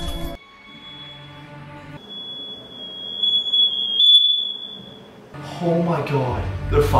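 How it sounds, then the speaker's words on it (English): A home smoke alarm shrills with a steady, piercing high tone through most of the moment, loud and close, while a person's gasping voice and movement come in toward the end. "The fire alarm just went off in my house."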